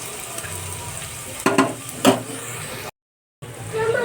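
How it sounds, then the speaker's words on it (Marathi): Chopped onion frying in hot oil in a pan for pea rice, a steady sizzle with a couple of louder stirring bursts, a brief silent gap, then the frying continues. "कांदा थोडासा आपण गुलाबी रंगावर भाजूया"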